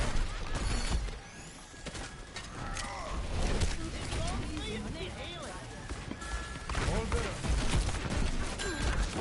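Junkrat's grenades bursting during an Overwatch match, a busy run of pops and crashes mixed with gunfire and ability effects, with a caster talking steadily throughout.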